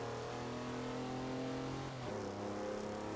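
A stock diesel drift car in the racing game Forza Horizon 4 revs with a steady, droning engine note that dips briefly, as if shifting, then carries on.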